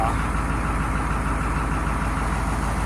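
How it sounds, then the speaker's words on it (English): A White 4-175 farm tractor engine runs steadily at idle, a loud, even low rumble with a regular throb throughout and no voices. "The tractor's been running pretty good."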